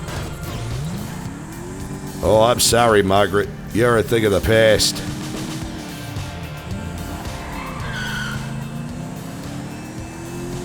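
A car in a role-play driving game hums along with its engine note rising and falling, while tires squeal in brief bursts partway through; someone talks over it.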